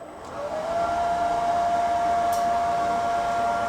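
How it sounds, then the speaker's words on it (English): Mill City 6kg coffee roaster cooling tray fan starting up and settling into a loud, steady whooshing roar with a faint rising whine, close and continuous, no voices. "it automatically started my cooling tray. My cooling tray is both on physically with the arms, and my cooling tray fan is on"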